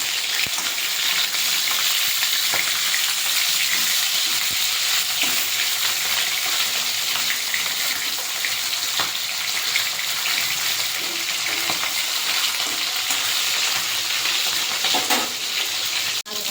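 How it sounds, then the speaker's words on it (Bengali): Fish fries in hot oil in a kadai, a dense, loud hiss of crackling oil that runs without pause, with small pops and faint clinks of a utensil now and then. "মাছ ভাজবো কড়াইতে তেল দিয়ে দেব"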